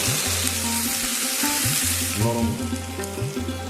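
Onion and goat fat sauté in a pan for jackfruit kalia, giving a steady bright sizzle that runs throughout beneath tonal background music.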